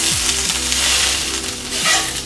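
Butter hitting a hot cast iron skillet gives a steady, bright sizzle that fills the clip, close and fairly loud, with a few low clunks of handling underneath.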